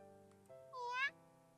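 A single kitten meows once, short and clear with a rising, wavering pitch, over soft background game music in a visual-novel setting.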